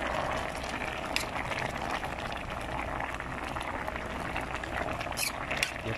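Tomatoes and bell peppers cook in a boiling pot with a constant bubbling, churning roar that stays fairly loud and close for the whole stretch, with a few brief clinks on top.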